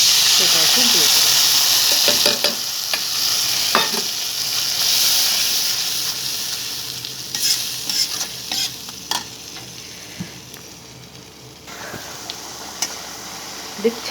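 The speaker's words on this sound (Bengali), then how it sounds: "দেখছেন টকবক করে উঠছে আমার ভুনাটা।" Onion and spice masala for a Bangladeshi hotel-style koi fish curry frying and bubbling in oil in a pan, a steady close sizzle and hiss with occasional stirring scrapes and soft pops, no one talking.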